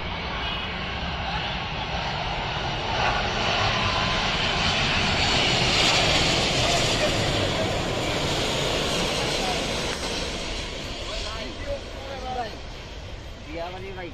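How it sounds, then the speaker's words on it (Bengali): A Thai Airways Boeing 777 approaches to land at Dhaka airport, its engines a loud, sustained roar that swells toward the middle and then eases, while someone talks over it. "এগিয়ে আসছে থাই এয়ারওয়েজের"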